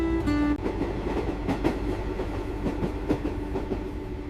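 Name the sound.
train riding along the coast in Vietnam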